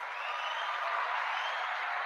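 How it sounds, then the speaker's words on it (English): Steady applause from a small group, a continuous even patter of clapping with no breaks, moderately loud throughout. "Let me give you applause for that."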